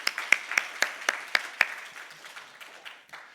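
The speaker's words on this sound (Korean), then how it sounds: "교육위원장님께 다시 한번 감사의 박수 하도록 하겠습니다" Small church congregation clapping during a Sunday worship service, a handful of sharp distinct claps in a loose rhythm for about a second and a half, then thinning to scattered softer claps that fade out.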